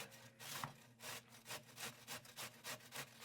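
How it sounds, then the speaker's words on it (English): Fennel is grated by hand on a grater in a kitchen, giving rhythmic rasping strokes, about ten quick back-and-forth scrapes, close but quiet. "you're going to hold your elbow up and you're going to grate"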